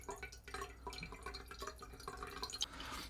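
Water poured into a glass carafe set on a coffee scale, a steady close trickle with small splashes and drips running throughout.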